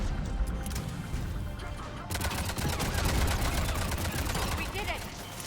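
Gunfire in Mass Effect 3, a dense stretch of rapid shots and bursts that grows louder and busier partway through, with voices talking over the combat.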